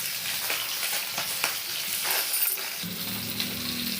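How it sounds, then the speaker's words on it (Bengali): Small Japanese puti fish fry in hot oil with a soft, even crackle and sizzle, close by and fairly quiet, with faint clinks over it. "এখানে দেখো মাছগুলো ভাজা হচ্ছে"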